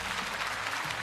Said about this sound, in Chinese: 我们再次掌声为他们加油鼓劲儿，好不好？